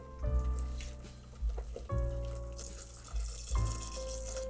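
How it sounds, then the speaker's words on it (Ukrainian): Broth is poured into a pot of French onion soup, giving a splashing, gushing pour that comes in several surges with short pauses, close and moderately loud, with no talking. "Ми заливаємо бульйон."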